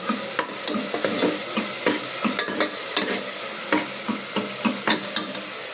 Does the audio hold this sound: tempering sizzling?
yes